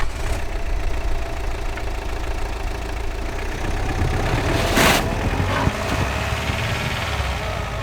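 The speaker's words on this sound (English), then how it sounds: "Now second gear, full speed." Car engine pulling hard in second gear at full speed on an off-grid trip to a log cabin, a loud, steady drone with rattles and one sharp thump partway through.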